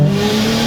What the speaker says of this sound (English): So I'm gonna give it a little bit of gas here and just show you like what this car does.